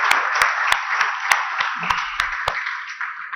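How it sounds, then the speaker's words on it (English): Applause from an audience at a Formula E association MOU signing ceremony: a dense, steady wash of clapping with a few sharper individual claps standing out, sustained throughout with no talk. "they deserve a huge round of applause from all of us"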